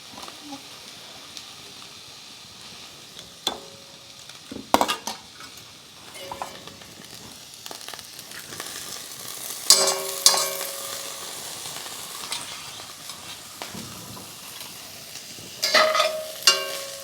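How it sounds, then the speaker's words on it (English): Dehydrated cabbage sautéing in a pan with onions and garlic, a soft steady sizzle broken by scattered clinks and scrapes of a utensil stirring against the pan, with a few sharper knocks. "So we're going to mix it with the onions and the garlic."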